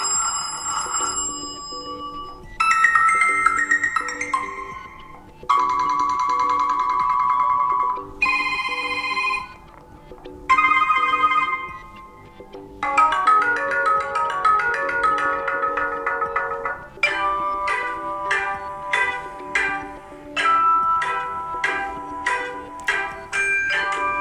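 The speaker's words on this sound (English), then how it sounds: "let's come along with all the ringtones that KRUGER MATZ offers" A series of phone ringtones on a KRUGER & MATZ Flow 6 Lite play back one after another. Each is a short electronic melody or chiming pattern, loud and close, with brief gaps between them.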